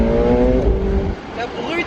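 Engine drone and rushing wind from a McLaren 720S Spider convertible on the road, loud and close, its harmonic engine tone shifting as it accelerates, with someone talking over it.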